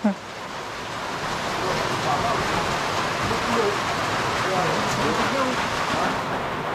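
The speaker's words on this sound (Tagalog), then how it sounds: "Hindi pa natapos bubukan, inuulan na." Steady broadband hiss of rain falling throughout, with faint rumbling and scattered voices under it.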